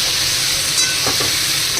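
Chopped snake gourd with salt, turmeric and sugar fries in a pan with a steady close sizzle, and a brief stirring scrape comes partway through.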